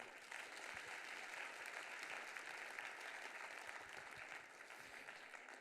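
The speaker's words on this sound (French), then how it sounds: "On peut les applaudir." Steady audience applause at an awards ceremony, a broad even wash of many hands clapping that holds at a constant level throughout, heard from a distance in a large room.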